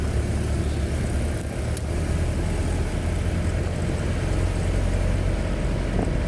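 Topless Land Rover driving on a toll road near Bintara toward Tanjung Priok, a steady low engine rumble and road roar with wind noise, constant and close, no talk.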